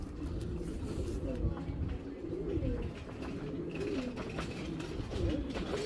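Soft pigeon coos repeat at a low pitch alongside a person talking, with steady background noise throughout.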